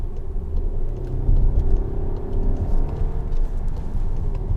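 Cabin of a 2019 VW Arteon fastback under acceleration: a steady, loud engine rumble with rising and falling drone as the transmission moves through gears, no voices.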